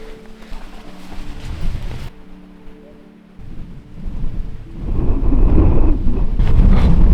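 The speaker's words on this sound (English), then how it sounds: "I don't know how good the audio is gonna be on this because it's so windy, but Josh is at the beach." Strong wind on a beach in Northern Norway buffets the microphone in a steady low roar, growing louder and rougher toward the end, with no voices.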